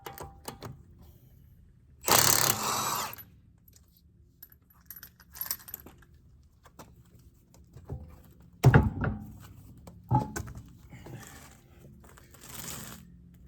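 Wheel lug nuts being removed and installed on a Jeep XJ, heard as scattered metallic clinks, clanks and a few sharp knocks with quiet gaps between, close by and without speech.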